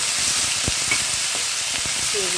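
Onion tempering for bun dosa batter sizzles steadily in a hot pan, a continuous close, bright hiss of frying with a few soft scrapes of stirring breaking through.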